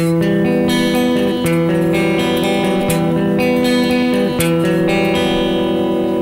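A distorted electric guitar plays sustained chords, alternating between two chord shapes over ringing open strings, loud and dense with heavy effects.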